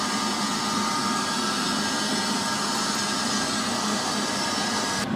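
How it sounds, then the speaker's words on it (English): A MIG welder feeds wire through its hose, making a continuous, even mechanical whirring hum. The sound stays close and steady throughout, with no pauses and no voices. "Pull the trigger and the wire should feed through cleanly."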